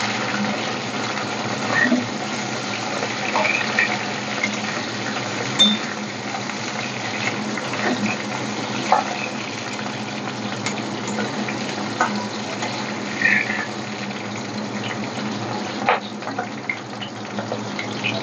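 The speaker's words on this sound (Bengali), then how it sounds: "এবার আমি এই পেঁয়াজটা ভেজে নেব।" Onion fries lightly in oil for a Bengali ridge gourd, potato and poppy seed curry. A constant, moderate sizzle goes on throughout, with occasional soft stirring taps, close by and without speech.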